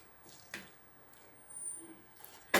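Water squeezed from grated bottle gourd drips in a home kitchen, heard as a few faint, scattered drips and small wet splashes over quiet background.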